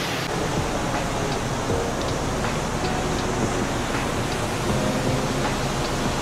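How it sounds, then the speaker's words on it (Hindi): Dam water rushing and splashing toward Hundru Falls, a steady broad roar of churning water heard nearby, constant throughout with some wind buffeting. "वो डैम से पानी आ रहा है और ये उछाल मारते हुए ये निकल रहा है हुंड्रू"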